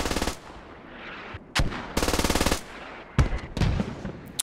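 An MG3 machine gun fires in the military shooter game Squad, in loud, close, rapid bursts: a short burst, a long rattling stream, then several sharp single shots and a final choppy burst.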